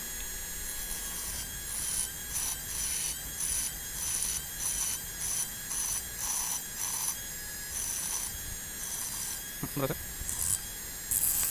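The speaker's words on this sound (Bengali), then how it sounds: "এই ব্যাটারিগুলোর এই টার্মিনালগুলোকে ঘষে একটু ক্লিন করে নেওয়া" The terminals of 18650 lithium battery cells are rubbed clean before spot welding, giving steady, rhythmic back-and-forth scraping strokes at close range while a voice speaks briefly.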